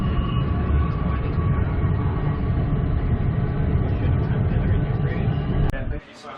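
A train pulls into a station on a Queensland rail journey, its steady, loud, rumbling roll running for several seconds before cutting off abruptly near the end.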